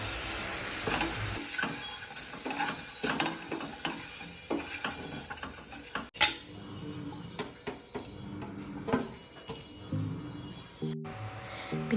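Boiled eggs being stirred into masala in a pan, with a spoon scraping and tapping against the pan over a soft sizzle, in irregular close strokes with a sharp knock midway.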